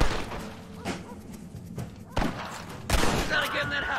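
Scattered gunshots in the Western game Red Dead Redemption on Xbox 360, several sharp reports spaced a second or so apart over a dull, busy background.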